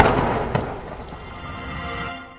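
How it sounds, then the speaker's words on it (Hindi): Heavy rain pours down at night over a farm field, a loud, continuous wash of downpour that holds steady before fading out at the end, with no voices. "रात को तेज बारिश होती है।"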